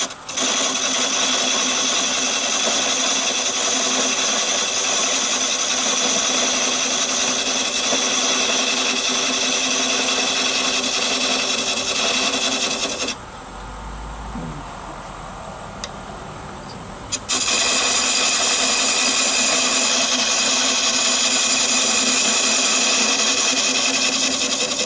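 A wood lathe spins a bowl while a round nose scraper cuts away its dovetail recess, giving a steady, loud, close whining roar that drops out for a few seconds mid-way and then resumes at full strength.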